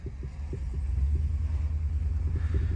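A 2005 Chevy Silverado 2500 truck drives along with a steady low engine rumble and throbbing drone, close and continuous, with no voices.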